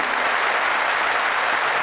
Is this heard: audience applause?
yes